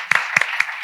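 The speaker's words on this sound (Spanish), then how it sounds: "Un aplauso." A few sharp, separate claps ring out close by, sparse and uneven, in the audience of a live talk show.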